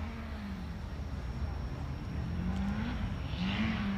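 A 4-cylinder turbocharged race car engine drones steadily through a qualifying run at St. Louis, its pitch rising and falling as it works through the course, heard from a distance under continuous broadband noise.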